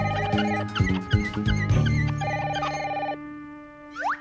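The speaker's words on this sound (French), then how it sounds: "Mince, le téléphone." Telephone bell ringing in a cartoon scene, several sharp repeated rings in quick bursts, close and loud, then fading out with a short musical flourish at the end.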